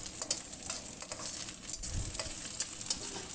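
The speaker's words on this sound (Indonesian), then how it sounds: "Tumis semua bumbunya sampai benar-benar tercium bau harumnya ya, jadi harum dari teri, bawang merah dan bawang putihnya juga" Anchovies, shallots and garlic stir-fry in a pan, a steady close sizzle with scraping stirs of a utensil against the metal every so often.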